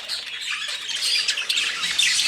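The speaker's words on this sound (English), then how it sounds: "And this is some coal birds from the other cage." Young chicks from a backyard cage squawk and cheep continuously in a dense, high-pitched chorus, fairly close and steady with no talking over it.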